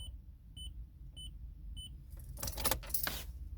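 A Toyota's ignition key is switched off and back on, giving a short series of evenly spaced electronic chime beeps followed by a brief clatter of jangling keys near the end, close and clear with no talking.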